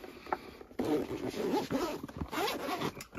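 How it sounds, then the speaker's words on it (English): A zipper is pulled closed around a hard case for HDZero FPV goggles in a few quick rasping strokes, close and fairly loud. "And it zips up fine."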